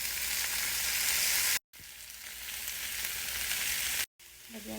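Meat, garlic, onion, pepper and bamboo shoots sizzle loudly in a hot pan, a dense continuous hiss broken by two short cuts to silence.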